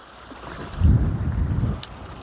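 Wind gusts buffet a boat while fishing for coalfish, making a low, rumbling roar that swells in the middle and then eases, with no voices.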